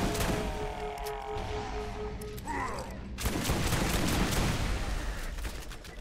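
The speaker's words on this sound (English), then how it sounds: "They had like SMGs and assault rifles and nothing else." Dense SMG and assault rifle fire from a firefight in the Borderlands shooter game, a steady loud crackle of overlapping shots that grows busier partway through, with a faint voice briefly audible early on.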